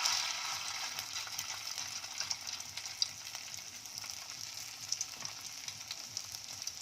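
Banana blossom fritters fry in hot oil, a soft, continuous crackling sizzle with small pops, close and fairly quiet, with no talking.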